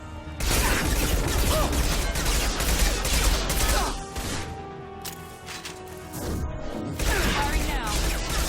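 Bursts of weapons fire in the video game Mass Effect 2 during a combat firefight, loud and sustained for several seconds, then dropping briefly before another volley, with game voices mixed in.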